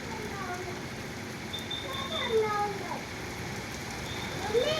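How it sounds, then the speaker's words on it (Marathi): Steady, fairly faint rain falls continuously outside an apartment, a soft even hiss with a few brief chirps or squeaks over it. "कंटिन्यू पाऊस चालू आहे."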